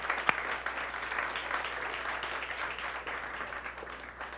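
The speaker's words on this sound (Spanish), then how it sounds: "Fuerte aplauso." Steady applause from a church congregation at a birthday-for-Christ celebration fills the space, a dense even wash of many hands with one sharp clap standing out near the start.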